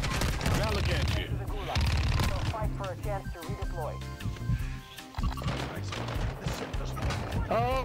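Rapid automatic gunfire bursts from a Call of Duty: Warzone 2.0 match, dense and loud, overlapping with steady talk throughout.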